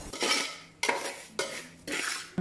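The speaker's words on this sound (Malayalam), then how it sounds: "വീണ്ടും നമ്മൾ കൈ എടുക്കാതെ ഇളക്കിക്കൊണ്ടിരിക്കണം." Pineapple avalose mixture being stirred in a pan, with a utensil scraping and rattling against the metal in four steady, close bursts separated by short pauses.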